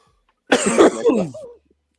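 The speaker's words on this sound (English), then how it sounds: "excuse my cough" A single rough, throaty cough close to the mic, ending in a brief throat-clearing sound, then silence.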